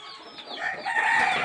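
Desi country chickens at a village poultry setup, clucking and calling close by in a busy, rising chorus of overlapping squawky notes.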